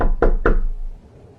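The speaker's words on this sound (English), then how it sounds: "the knock at the bedroom window." Two sharp knocks strike a bedroom window on a snowy night, close and loud in quick succession, then fade into quiet.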